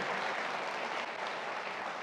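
Sustained applause from an audience at a Rockstar film fan meet with director Imtiaz Ali, a dense steady clatter of many hands clapping throughout.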